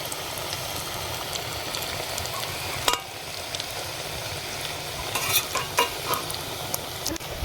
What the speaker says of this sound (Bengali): তেলটা গরম হয়ে গেছে, এবার পিস পিস করে রাখা ধোকাগুলো আমরা ভেজে নেব।